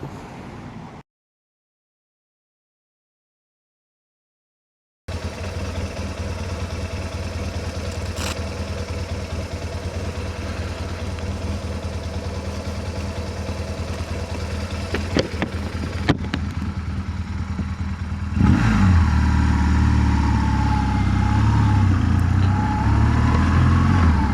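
Motorcycle ridden through the small Ayrshire town of Darvel on a damp November day, its engine holding a steady mid-range drone after a brief silence, growing louder and rougher near the end.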